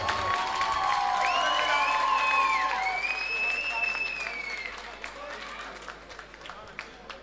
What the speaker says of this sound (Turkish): Çok güçlü alkış gelir mi lütfen?